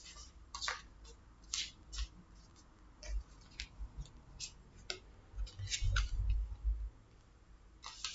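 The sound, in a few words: Bélines divination cards being handled and drawn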